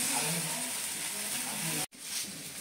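Fish frying in a light spoonful of oil on a tawa gives a steady, close sizzling hiss that holds evenly, then cuts out briefly near the end before resuming.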